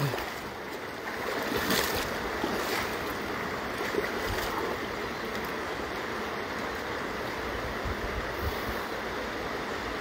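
A steady, loud rush of flowing water fills the scene continuously, like a strong current surging past nearby.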